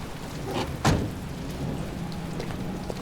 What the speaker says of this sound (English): Really love the details of the rain sort of hitting our clothes